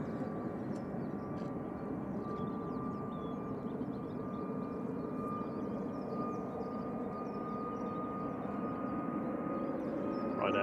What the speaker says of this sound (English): Ryanair 9HVUB operating flight 2583 to Gran Canaria here, max 8200